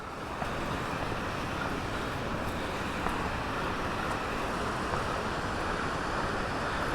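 A river swollen with snowmelt rushes past near the Big Beaver Trail, a constant loud broadband roar of water lasting throughout, close by and with no voices.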